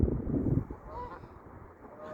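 A goose honks outdoors on a nature walk, with a couple of loud, nasal honks close by against quiet background noise.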